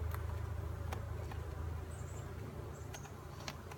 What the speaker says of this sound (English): They're very loud